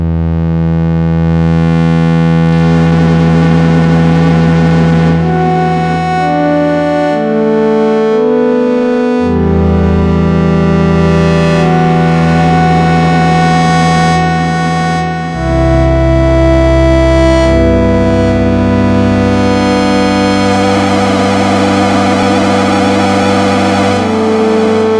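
A slowly evolving synth pad played on a Yamaha Reface DX FM keyboard, with sustained layered chords that shift through several changes over about 25 seconds, loud and continuous with no talking.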